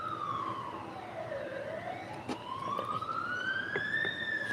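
An ambulance siren wails outside a window, its pitch sweeping down then rising again in a slow cycle, faint and distant beneath traffic noise.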